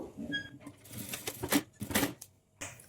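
A sewing machine runs in short mechanical bursts while rough-stitching a dori cord onto the back neck of a blouse. The rattling runs start and stop close by, with faint room noise between them.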